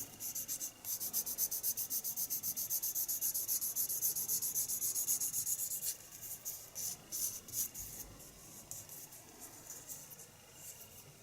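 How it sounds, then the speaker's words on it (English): A sanding stick scrapes back and forth over a small plastic Warhammer Tau Fire Warrior model part, fast rhythmic rasping strokes up close that turn slower and more irregular halfway through. "So now just going over it with the sanding stick."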